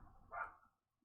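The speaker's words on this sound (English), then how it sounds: "The neighbor's dog is apparently barking right now." A neighbour's dog lets out a single short bark at a distance, faint against a quiet room, followed by near silence.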